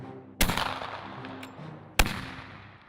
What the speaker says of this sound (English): I've shot the heck out of these Martini Henrys over the years.